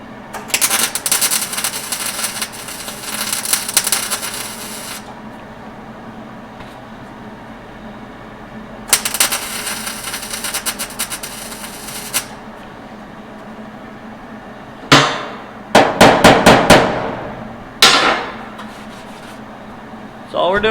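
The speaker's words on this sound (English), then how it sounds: "Turn the welder on." Spot welding on a car trunk floor: long sizzling bursts of welding a few seconds each, separated by quiet pauses, followed by a cluster of short crackling zaps.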